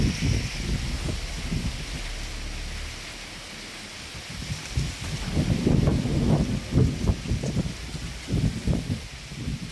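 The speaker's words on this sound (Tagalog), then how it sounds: "Ang hangin." Steady wind blows across the microphone with gusty rumbling and some rustling, and no voices are heard.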